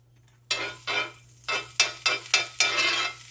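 Vegan butter sizzles in a frying pan beneath a vegan chicken quesadilla made with JUST Meat, rising in loud, close bursts of hissing crackle that come in repeated waves after a quiet start.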